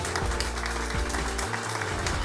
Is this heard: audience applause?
yes